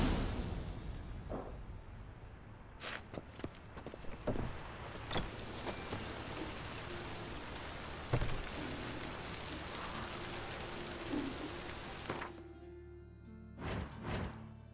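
Steady rain falls through an outdoor scene in the video game The Witcher 3, a continuous wash of patter with occasional knocks and thuds over it, fading out near the end as a few louder sounds close the passage.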